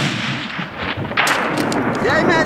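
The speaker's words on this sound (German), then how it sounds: "Wenn du drauf bist, kannst du schießen." A single loud rifle shot cracks out during an ibex hunt in the mountains of Turkey, followed by a rolling echo that decays across the terrain.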